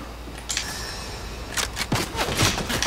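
Gunfire in Fortnite: a soft crack early, then a rapid cluster of sharp shots and impacts during the second half, moderately loud against a steady game-noise bed.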